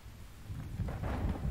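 Rain falling outdoors with a low rumble like distant thunder, a steady wash of noise that swells toward the end, with no voices.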